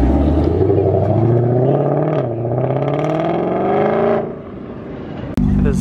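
A Chevrolet Camaro ZL1 sports car revs hard and roars past close by, its engine note climbing and then falling away, with an abrupt cut near the end. It leaves Dallas Cars and Cantina with police nearby.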